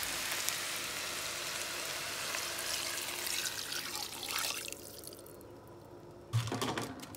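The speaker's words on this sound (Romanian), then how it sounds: "pun apă, sare și las să fiarbă" Water runs from a tap in a continuous, loud rush as it fills a pot of cut potatoes for boiling, then stops, followed by a soft clunk and a few splashes near the end.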